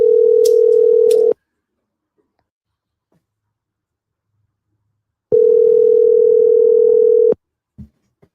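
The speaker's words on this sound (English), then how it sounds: "And she ain't answering my phone call." An unanswered phone call rings out as a steady electronic ringback tone. Two loud tone bursts are separated by several seconds of silence, and a faint click follows at the end.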